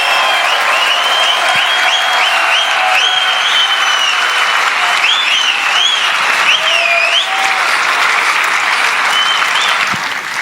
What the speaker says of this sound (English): Please, you guys, a warm round of applause for the greatest in the world, man.